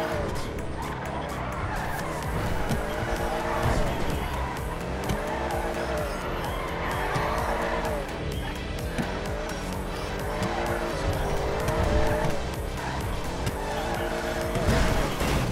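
Drifting car in GTA 5 with loud, continuous engine roar and repeated tire squeals sweeping through slides, sustained throughout without breaks.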